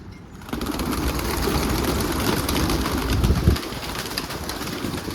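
Racing pigeons in a garden fill the air with a dense wash of flapping wings and fluttering, with faint cooing in the mix, loud and close with no speech.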